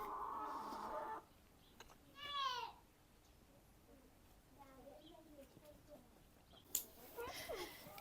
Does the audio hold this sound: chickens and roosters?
yes